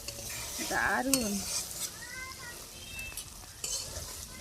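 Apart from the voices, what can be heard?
stirring pointed gourd in a covered pan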